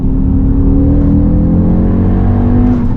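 A Stage 1 REVO-remapped Audi RSQ3 making about 460 bhp, driven in dynamic mode, its engine accelerating hard with a loud, rising, whirring drone that builds steadily and close up, with no voices.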